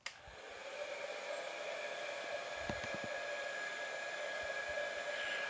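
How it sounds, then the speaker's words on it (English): A 2000-watt hairdryer powered from a battery on its lowest setting blows a steady, even whoosh of airflow, starting with a click and running without a break at a moderate level, with no voices. "Now here we are using a hairdryer, and I think this hairdryer is rated at 2000 watts."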